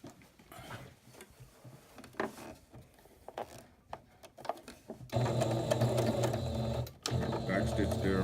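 A sewing machine stitches pinwheel quilt pieces with a 1/4 inch seam, running steadily and loudly for the last few seconds after quieter handling clicks and talk at the start.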